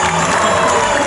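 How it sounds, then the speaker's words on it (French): Spectators clapping at a medieval tournament show with ring-lance riders, a short burst of loud, dense crowd applause. "maintenant pour les anneaux lancés, on les applaudit bien fort"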